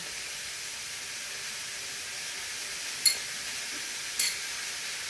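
Potatoes, eggplant and small fish cook in a pan, giving a steady, soft sizzle and hiss with two brief clinks of a utensil against the pan.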